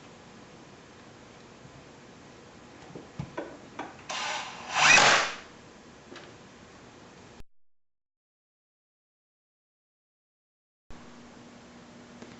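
A power drill drives screws into wood for a chessboard, with short clicks and whirs, then a louder burst of drilling around the middle, followed by a stretch of silence.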